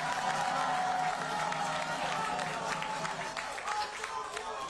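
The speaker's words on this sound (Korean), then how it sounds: "박운규 선생님께 박수를 보내드립니다." A crowd at an Incheon political campaign rally claps and cheers, a broad steady applause with a murmur of voices mixed in, fairly loud and sustained before easing slightly toward the end.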